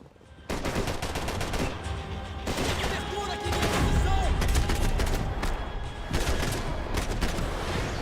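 Rapid video game gunfire, a dense continuous barrage of shots with booming impacts that runs loud and unbroken for about eight seconds, with voices faintly mixed in.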